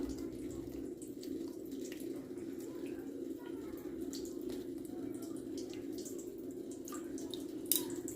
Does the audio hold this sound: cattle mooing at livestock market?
no